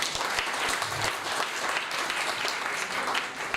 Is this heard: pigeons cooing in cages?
no